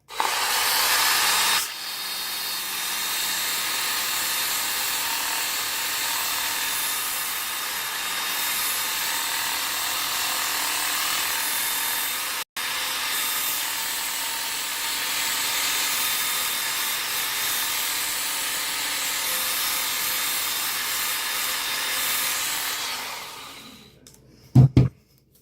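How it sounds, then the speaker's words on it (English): Handheld Ken Onion Work Sharp sharpener running against the bevel of an axe blade, a steady, close whirring grind that holds for about twenty-five seconds with a brief break midway and a clatter at the end. "So basically, it's a handheld sharpener."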